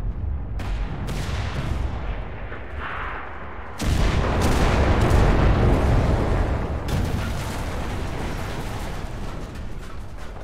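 A mounted gun in the Enlisted war video game fires heavy, booming bursts, growing louder and denser partway through, with thudding rounds and explosions in a continuous loud battle din and no speech.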